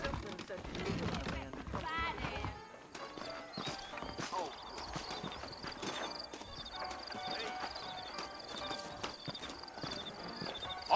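Horses' hooves clip-clop in Red Dead Redemption as riders set off from town, a busy rhythmic clatter mixed with game sounds and music, with voices talking over it.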